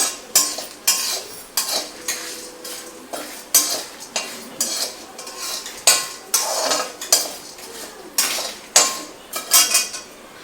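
Spices being dry-fried and stirred in a pan, mostly heard as a regular rhythm of loud metal spoon scrapes and knocks against the pan roughly every second, over a faint background sizzle.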